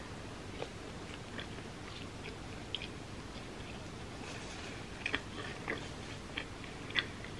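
Close, quiet chewing of vegan cheese pizza with marinara, soft wet squishy bites and scattered small crunches over a steady hiss, a few slightly louder bites toward the end, no talking.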